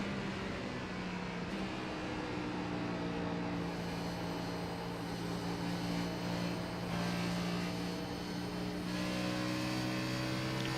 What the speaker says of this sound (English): listen to just how careful he has to play with the throttle